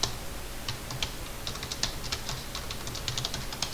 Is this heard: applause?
no